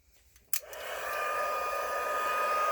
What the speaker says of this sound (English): So I will get my heat gun.